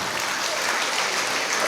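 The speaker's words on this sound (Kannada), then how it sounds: "ಜೋರಾದ ಚಪ್ಪಾಳೆ ಮೂಲಕ ಮತ್ತೊಮ್ಮೆ ಅವರಿಗೆ ಸ್ವಾಗತವನ್ನು ಕೋರೋಣ" A hall audience claps loudly and steadily to welcome a visiting guru at a Mangaluru event, dense applause holding at the same level from start to finish with no voice rising above it.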